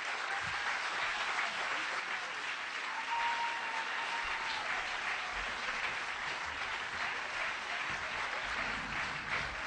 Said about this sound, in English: they'll hear you clapping and will come surging out